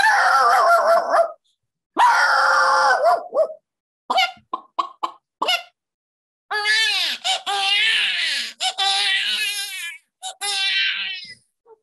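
A voice imitates a dog barking in a burst of short yips, then shifts into longer wailing cries like a baby, loud and near with brief pauses.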